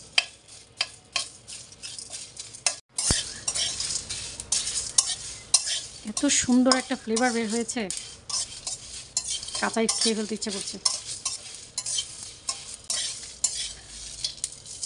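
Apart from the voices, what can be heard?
whole spices frying and stirred in pan on low heat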